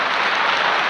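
An audience claps at a talk on religion in a brief, dense burst of steady applause, close and fairly loud with no voices over it.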